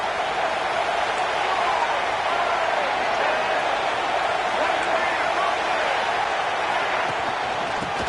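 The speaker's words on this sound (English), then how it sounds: "Crowd really getting into it here in the final minute." Steady roar of a football stadium crowd cheering through the final minute of the Mississippi vs Florida SEC Championship game, dense and continuous, with a commentator talking over it.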